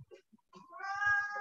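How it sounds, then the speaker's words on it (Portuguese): A house cat meows once, clear and fairly close, a drawn-out rising and falling cry after a few faint soft sounds in an otherwise quiet indoor room. "vocês podem ouvir miados durante a transmissão"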